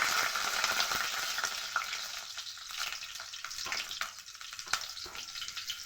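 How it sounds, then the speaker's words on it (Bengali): Black cumin seeds and two green chillies dropped into hot oil in a kadai, a bright, crackling sizzle that is loud at first and settles into a steady fry with scattered pops, no voices over it. "কড়ার মধ্যে তেল গরম হয়ে গেছে, দিয়ে দেব অল্প পরিমাণ কালো জিরা আর তার সাথে 2টো কাঁচা লঙ্কা"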